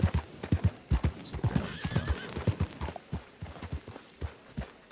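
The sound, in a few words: horse hooves clip-clopping and whinnying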